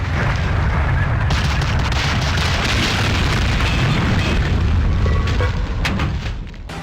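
Deep, rumbling video game explosions roar continuously with crackling debris and heavy booms, loud and dense without pause, from a World War II shooter, Medal of Honor: Allied Assault on PC.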